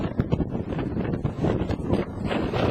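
Wind buffets the open top of Pen Yr Ole Wen, a steady, loud roaring rush with gusty swells and rumbling mic buffeting throughout.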